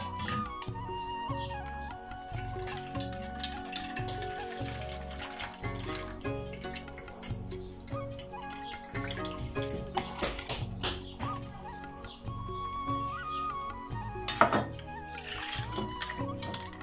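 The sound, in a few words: squeezing soaked tamarind in water to extract juice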